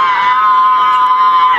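A joyful street crowd celebrating across a city, dominated by a loud, sustained shrill tone like ululation or whistling held steadily over a bed of cheering and shouting.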